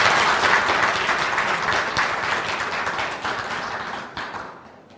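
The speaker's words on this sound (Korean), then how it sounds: "힘찬 박수로 시작하도록 하겠습니다." Vigorous applause from an assembled crowd opening the launch ceremony of a Korean agriculture and food policy forum, dense clapping that gradually thins and fades out over several seconds.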